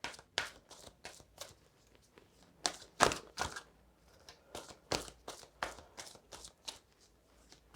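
Tarot cards being shuffled by hand, a quick series of crisp riffling and slapping bursts in an uneven rhythm, close and fairly quiet with no talk.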